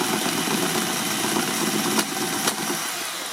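A small four-stroke engine fitted to a RocHobby 1/6-scale 1941 Willys MB RC Jeep turns over and runs with a steady, close, loud buzzing drone, with two brief sharper bumps near the end.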